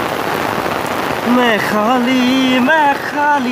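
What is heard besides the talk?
heavy continuous rain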